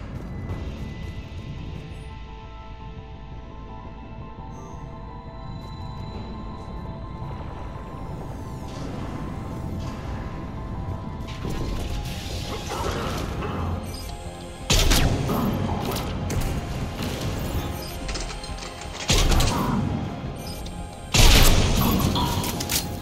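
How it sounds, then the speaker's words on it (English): Heavy cannons fire in the Mass Effect 3 video game, with booming blasts and crashing impacts over a steady mechanical rumble that build toward several loud detonations near the end. "Those cannons have to be stopped."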